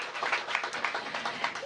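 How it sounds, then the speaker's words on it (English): An audience applauds Laura Zeilinger at a mayoral groundbreaking for short-term family housing, a brief steady patter of many hands clapping at moderate volume. "give Laura a big round of applause"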